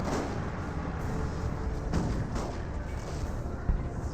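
Plasma cannon fire and explosions in the Dawn of War strategy game form a dense, continuous roar of heavy booms and blasts, loud and overlapping with no pauses.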